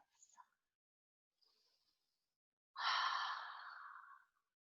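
A long, slow exhale during a yoga stretch, heard as a breathy sigh of about one and a half seconds that starts strong and fades, after a few softer breaths.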